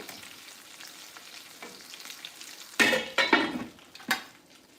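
Fish frying in a pan over rising heat, a steady soft sizzle that breaks into several louder crackling bursts and a stirring clatter near the end, close by.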